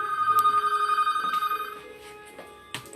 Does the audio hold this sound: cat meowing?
no